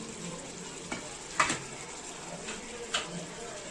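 Chicken biryani cooking in oil as fried potatoes go in, a soft steady sizzle with a few brief clinks and stirring knocks from utensils against the pot.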